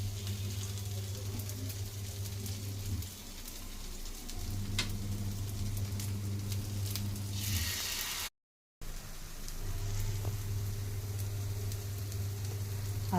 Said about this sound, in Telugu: అలా ముంచి ఇట్లా పెనం మీద వేయాలి. అన్నీ వేసాక కాలుతాయి కదా